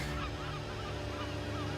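Seagulls call continuously in a dense, noisy flock, their squawks layered thickly over one another throughout with no voices.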